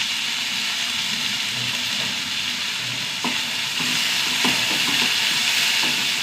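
Sliced onion and curry leaves fry in a pan with a constant, close, crackling sizzle, broken by occasional light clicks of stirring, with no talking.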